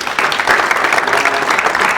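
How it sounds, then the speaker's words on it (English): Audience applause closing a community panel event on venture capital and founder brands, a loud, steady burst of many hands clapping close by, even and unbroken for a couple of seconds with no speech. "So I would like to give a round of applause"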